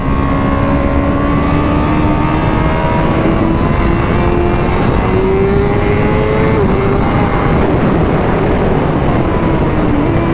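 A 240bhp Honda British Superbike roars continuously at speed with no rider aids, its engine note loud and close, pitch climbing and dipping slightly through gear changes.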